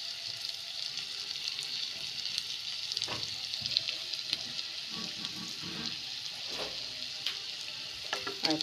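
Chicken fries in a pan for a chicken curry, giving a steady, close sizzle with occasional stirring scrapes and clicks throughout and no talking.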